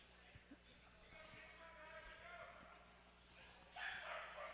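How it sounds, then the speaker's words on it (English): A dog barks a few times at a men's ice hockey semifinal, the sound faint and distant within arena noise while an announcer talks. "Yep, the dog agrees with the icing call"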